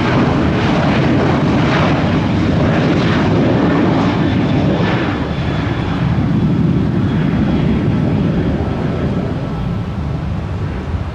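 Delta airliner taking off from a runway at Tampa airport, loud sustained jet engine roar that holds steady and dominates throughout, with no talk.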